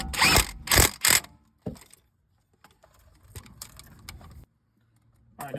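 Wheel hub bolts, six 15 mm, tightened in a star pattern on a 2013 GMC Yukon: a few loud quick ratcheting bursts at the start, then quieter clicks and rustling shop noise, ending with another burst.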